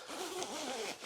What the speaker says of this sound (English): Unzip them.